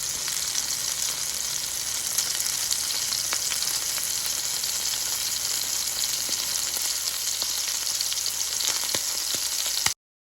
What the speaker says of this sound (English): Put it in the pan and just let it sizzle away.